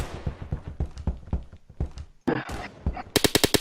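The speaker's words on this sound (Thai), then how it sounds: "ยิงปืนรัวๆเนี่ย" Rapid bursts of video game gunfire from Phantom Forces crack in quick succession, ending in a fast, sharp machine-gun rattle; short thuds and clicks sit between the volleys.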